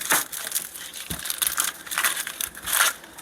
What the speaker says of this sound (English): now while that's going, I'm just going to cut up some onion.